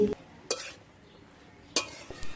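Cauliflower stem curry with mustard oil is stirred in a pan, a spoon scraping and knocking against the metal in a few distinct strokes over a soft sizzle, close and alone.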